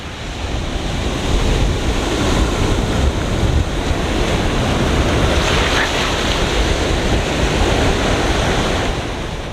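Sea waves wash steadily at the St Lucia Estuary, a loud continuous roar of surf mixed with heavy wind buffeting the microphone, with no voices.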